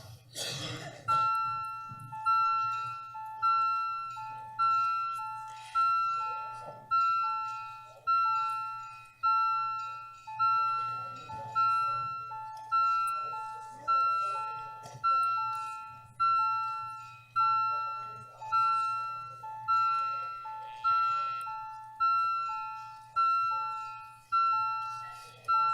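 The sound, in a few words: council chamber bells ringing to call a recorded vote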